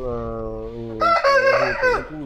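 A rooster crows loudly and close by, one full crow with a rising, strained call.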